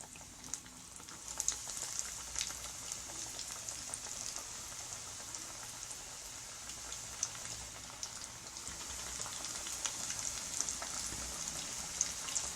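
Chicken breast fingers fry in hot oil in a steady, dense crackling sizzle with scattered sharper pops, continuous and fairly quiet throughout, with no talking.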